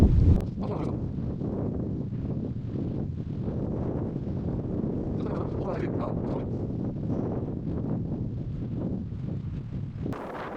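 Strong wind blows off the sea on the coast of Jeju Island, roaring steadily and heavily into the microphone for the whole stretch, with no pauses.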